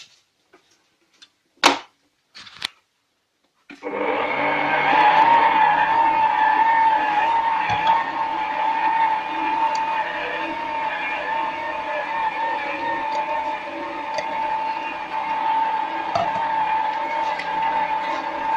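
A stand mixer runs at low speed, beating choux pastry dough as eggs are worked in one at a time, a steady whirring motor hum that holds on continuously after a few brief knocks at the start.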